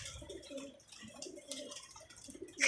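Pigeons cooing on a rooftop, soft repeated low coos close by with faint chirps, quiet and without talk.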